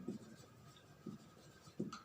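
Pen scratching out a chemistry question on a board or page in short bursts, three distinct strokes spaced about a second apart, faint and close.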